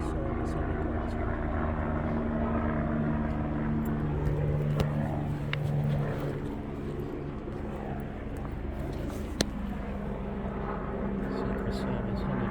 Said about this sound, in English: Secret Service helicopter there.